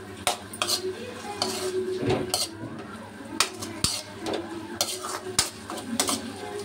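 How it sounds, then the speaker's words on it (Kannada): Dill leaves (sabsige palya) being stirred in a frying pan, with repeated sharp clinks of a metal spatula against the pan over a low background sizzle. "ನೋಡಿ, ಈ ಥರ ಚೆನ್ನಾಗಿ ಫ್ರೈ ಮಾಡ್ಕೊಂಬಿಡಿ."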